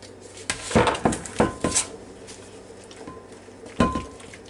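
A stirred apple and pineapple mixture is scraped and spooned into an 8x8 baking dish, giving several close, distinct clinks and clatters of utensil on dish between quieter pauses.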